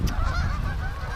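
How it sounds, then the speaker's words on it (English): Canada geese honk loudly and close by in a short burst of overlapping nasal calls, several birds sounding together outdoors for just over a second. "all the geese are quacking"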